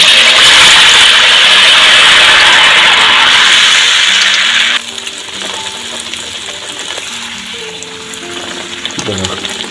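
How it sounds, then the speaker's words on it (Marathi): Jackfruit vadas drop into hot oil in a kadhai, a loud bubbling sizzle at first that settles into a quieter, steady crackle of deep-frying, close by and without speech. "आता हलक्या हाताने असं अलगद मी कढईमध्ये सोडतो"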